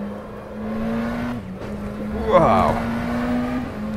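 Engine of a racing car in the rFactor 2 simulator at the Nordschleife, a steady high drone held at full throttle that dips briefly and then sweeps up and down in pitch, with a voice exclaiming over it.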